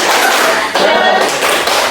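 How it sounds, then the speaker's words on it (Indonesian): A school class performing a rhythmic spirit clap in unison, sharp bursts of hand claps and taps in a quick patterned sequence, loud and close in the room. "tepuk semangat sama teman-teman"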